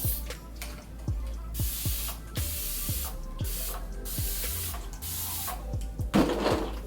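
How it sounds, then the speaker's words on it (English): A spray bottle misting water onto a section of hair during a wash-and-go styling, giving a series of sharp hissing spritzes in quick, irregular bursts close to the mic. "spray this section down with a little water"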